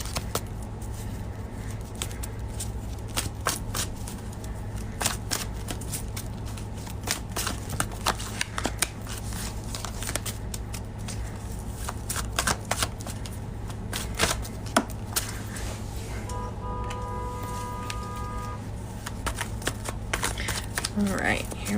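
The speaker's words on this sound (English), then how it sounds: "Just shuffling the deck here." A deck of cards is shuffled over and over in quick riffling bursts, close and fairly quiet, with a steady background hum and low talk underneath.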